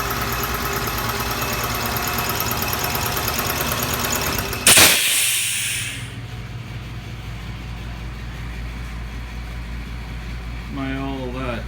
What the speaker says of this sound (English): 2-stage compressor still kicking ass after all these years.